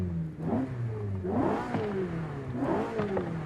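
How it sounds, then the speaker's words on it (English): In the Forza racing game, a car engine revs hard through repeated rising sweeps and gear shifts, a loud, continuous mid-pitched roar with no voices over it. "just so we can hear that engine a little better"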